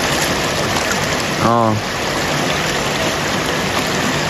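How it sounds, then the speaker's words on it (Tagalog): A strong, swift stream of clean water rushing steadily and loudly nearby, a constant broadband roar with a brief spoken exclamation over it. "Malakas ang tubig."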